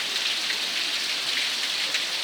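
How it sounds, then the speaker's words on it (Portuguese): Steady heavy rain falls in Matinhos, a thick constant hiss of water pattering on surfaces nearby, loud and uniform throughout with no one speaking. "Nunca imaginava que tá chovendo tanto assim."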